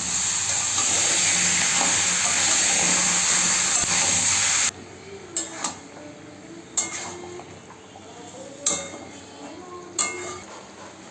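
Yogurt-marinated chicken goes into a pan of lightly fried vegetables with turmeric, cooked without oil. A loud, steady sizzle drops to a softer hiss broken by several stirring scrapes and clinks.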